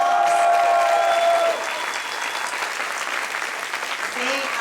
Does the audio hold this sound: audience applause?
yes